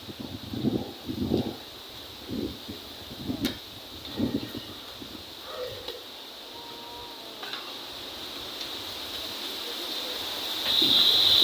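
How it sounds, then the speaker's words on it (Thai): Wind and rain sweep in as a storm reaches a rural home garden planted with holy basil: rustling gusts and a few soft thumps build into a louder, steady roar of wind near the end. "ทั้งฝนทั้งลมเลย"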